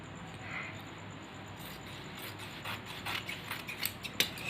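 Scissors cutting through fabric to shape pant panels, with soft rasping snips that start sparse and grow quicker and sharper toward the end, recorded close and fairly quiet.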